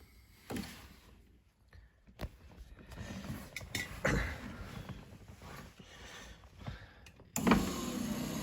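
The repaired passenger electric window motor of a 1974 Jensen Interceptor whirs in short bursts amid clicks and knocks of handling nearby, quiet and close, ending in a louder sustained motor run.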